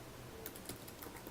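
Quiet, rapid typing on a computer keyboard while entering code in Xcode on a Mac, a soft continuous patter of key clicks over faint background hiss.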